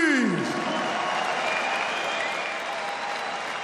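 Big round of applause from a boxing crowd for both fighters after a ten-round bout, steady dense clapping that holds throughout and slowly fades slightly, with a brief voice at the very start.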